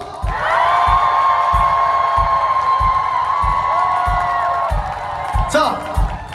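A concert crowd in Gwangju cheers and shouts in a long sustained swell over steady drum beats and a held musical tone, ending in a brief burst of noise.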